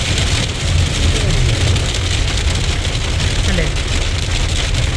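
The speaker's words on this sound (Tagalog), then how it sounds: "Ayan, buhos na ang ulan." Heavy rain pours down with small hailstones mixed in, a dense steady hiss across the whole span that stays loud and constant, with a vehicle engine rumbling low underneath and a voice speaking briefly.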